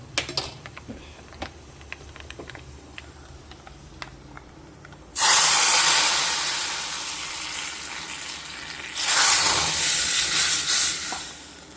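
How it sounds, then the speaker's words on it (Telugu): Hot tempering with sun-dried buttermilk chillies is poured into mango dal and bursts into a loud, close sizzle. The hiss fades slowly, then surges again briefly before dying down, after a quiet stretch of faint kitchen clatter. "ఇప్పుడు ఈ పోపును నేను పప్పులో వేసేస్తున్నాను"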